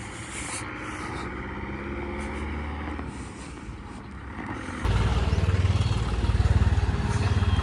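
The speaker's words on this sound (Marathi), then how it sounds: "ते आपण आज एका ट्रॅक्टरनी त्याच्या टेलर सहित ओढणार आहे." A tractor towing another tractor along with its trailer, a droning diesel engine that swells into a louder, throbbing labour about two-thirds of the way through, close and continuous with wind noise.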